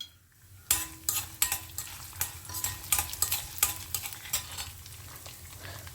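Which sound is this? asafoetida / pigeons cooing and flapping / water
asafoetida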